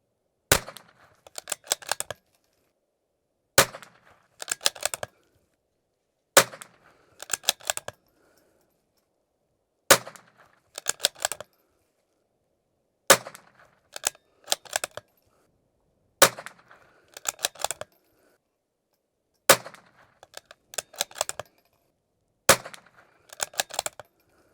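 Rifle shots fired at a 50-yard target ring out alone at an outdoor range, sharp single reports spaced every few seconds, each followed by a brief clatter and rattle.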